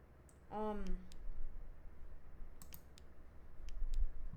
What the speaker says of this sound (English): The only thing we've heard is the sound of my flashlight clicking and my mouse.